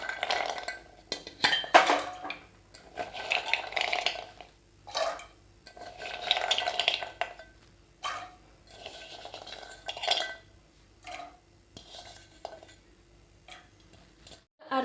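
Dried chickpeas clatter and patter into water in a pressure cooker in repeated bursts of small ticks and clinks, close and crisp with short pauses between pours.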